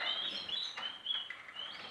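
A weaned young canary chirps in quick, high, thin tweets, fairly faint and steady with short pauses, alone without voices.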